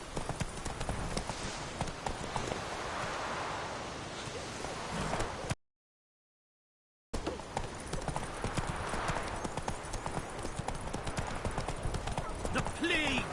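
Geralt's horse Roach in The Witcher 3 gallops with rapid, continuous hoofbeat clip-clops, briefly cut out by a stretch of silence midway, with occasional game voices over the hooves.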